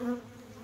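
Honey bees hum steadily around an opened hive worked without smoke, a close, continuous buzzing drone with no voices.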